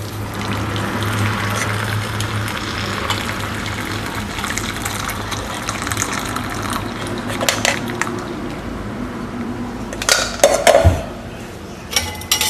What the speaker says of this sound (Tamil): இப்போ நம்ம செஞ்ச டீயை இதில் ஃபில்டர் பண்ணிட வேண்டியதான்